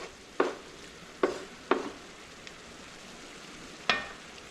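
Tomato and chili cooking in a pan for Cuban oxtail, a steady low sizzle broken by four sharp scraping stirs of a utensil against the pan, close and fairly quiet, with no voices.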